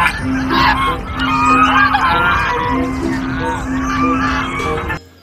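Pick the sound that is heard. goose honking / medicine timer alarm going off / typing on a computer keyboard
goose honking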